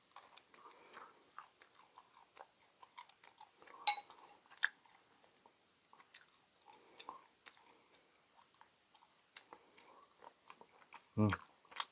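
Close, quiet chewing and small bites while someone eats brown rice and bony fish, soft irregular mouth sounds with occasional clicks of cutlery or dishes.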